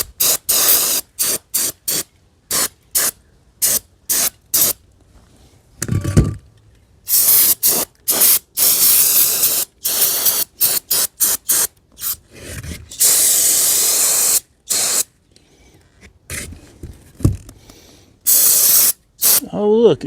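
Cleaner is sprayed onto the brake assembly of a 1956 Ford F500 truck in dozens of loud, close, hissing bursts. Most are short and rapid, some are held longer, and they are separated by brief near-silent gaps.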